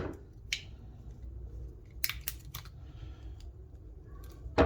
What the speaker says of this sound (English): Let's cut through that and get the battery released.